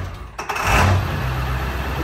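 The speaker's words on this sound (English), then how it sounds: "as you can hear, the truck is acting a little weird" A truck's diesel engine fitted with larger injectors runs loud and steady, a low uneven rumble that swells briefly early on and then holds at a constant rough drone.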